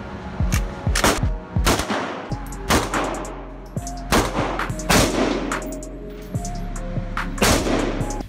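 A Tech 9 pistol fired in quick bursts of sharp, loud close-range shots, rapid cracks clustered in groups with brief gaps between.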